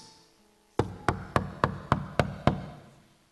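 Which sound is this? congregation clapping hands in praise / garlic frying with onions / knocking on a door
knocking on a door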